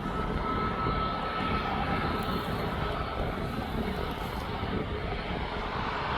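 A Ryanair airliner at East Midlands Airport roars steadily and loudly, a broad jet rumble that holds throughout with no talk.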